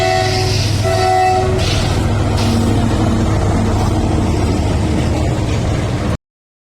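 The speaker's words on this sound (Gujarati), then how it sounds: "હોર્ન વાગે છે" A train rolls past a standing spot beside the tracks near Gir, its horn blaring in long loud blasts over the rumble and clatter of wheels on rail, close and continuous.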